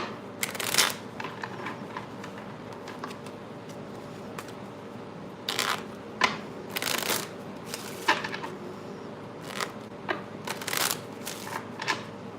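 A deck of playing cards shuffled for a tarot reading, with repeated bursts of riffling and flapping at close range between short pauses.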